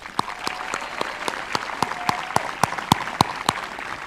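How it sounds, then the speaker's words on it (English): A small group at an outdoor high school graduation claps sparsely, individual sharp hand claps ringing out at an uneven rhythm, nearby and distinct rather than a dense roar. "So give yourselves a round of applause."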